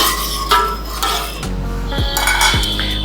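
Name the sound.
mixing urad dal rice in a pot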